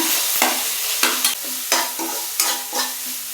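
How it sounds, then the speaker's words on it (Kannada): Chopped onions and ginger garlic paste fry in hot oil for a paneer curry, giving a steady close sizzle broken by about six regular scraping stirs of a spoon against the pan. "ಚಿಕ್ಕದಾಗಿ ಹೆಚ್ಚಿಟ್ಕೊಂಡಿರುವಂಥ ಈರುಳ್ಳಿನೂ ಕೂಡ ಹಾಕ್ತೀನಿ."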